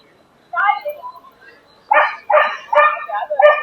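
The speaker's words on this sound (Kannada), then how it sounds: "ನೋಡಿ, park full varieties of dog ಗಳಿದೆ." Several dogs of mixed breeds bark and yip at a dog park in Bangalore: one short burst, then a run of five loud, close barks.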